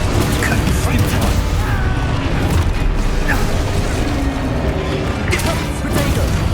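Confringo fire blast spells burst in Hogwarts Legacy gameplay, loud booming impacts within dense combat noise with several hits over a few seconds, and voices cast spells throughout.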